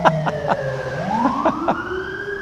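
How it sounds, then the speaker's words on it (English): Emergency vehicle sirens wail and sweep in pitch nearby, loud and overlapping, with a couple of sharp knocks near the start and traffic noise underneath. "The sounds of sirens"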